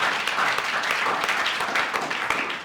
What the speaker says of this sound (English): I want to give you all another round of applause for that.